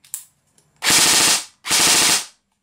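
Stock Tokyo Marui airsoft gun firing two smooth full-auto bursts, each under a second, with rapid even mechanical clatter up close after a few faint clicks.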